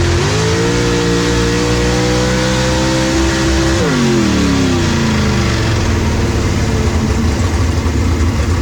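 Onboard a race car in an outlaw time-attack event in North Florida, a loud engine holds high revs, then drops sharply and climbs again, with harsh rumbling and jolting from the rough track throughout.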